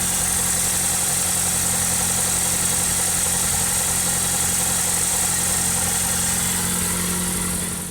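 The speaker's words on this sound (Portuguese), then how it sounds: "eu vou ligar o carro novamente" Chevrolet Kadett SLE car engine idling steadily, a close, continuous mid-pitched hum with a constant low drone throughout, no voices.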